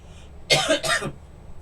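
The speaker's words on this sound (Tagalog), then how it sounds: "parang inuubo ako pagka tuloy-tuloy akong sa salita" Two quick coughs in close succession, fairly near and clear, with a brief quiet pause around them.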